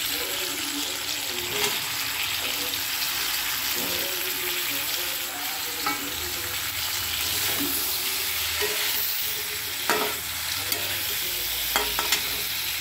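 Sliced potatoes and slit green chillies frying in a pan for a muri ghonto dish, with a steady sizzle and a few stirring scrapes, close and moderately loud.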